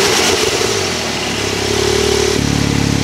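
A 2023 Porsche 911 Turbo S Cabriolet with active exhaust revs up loudly nearby, its pitch climbing and then holding in a throaty, rumbling exhaust drone.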